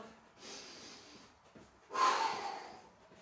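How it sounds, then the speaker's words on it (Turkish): Two heavy exhalations during a light-jogging resistance-band Pilates workout, a breath near the start and a louder, sharper huff around the two-second mark, close and breathy with no talking. "Burundan nefes al, ağızdan nefes ver."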